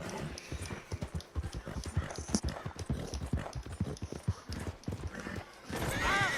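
Horse hooves clip-clop in a steady trot from the Red Dead Redemption 2 video game, with a neigh rising clearly near the end, all fairly close and loud.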